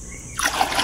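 Aged water trickling and splashing as it is drained out of a breeding tank, a soft dribble that turns into a steady close splatter partway through.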